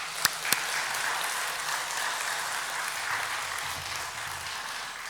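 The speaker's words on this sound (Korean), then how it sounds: "우리 교회 어르신들을 위해서 우리 격려의 박수 하십시다" A church congregation at a joint family-month worship service claps in encouragement for its elders, a warm, even wash of applause from many hands with a couple of sharp early claps, sustained and unaccompanied by speech.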